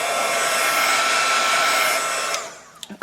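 A hair dryer blows steadily and loudly, close by, drying a painted Halloween ghost craft project, then cuts off near the end, leaving a few small knocks.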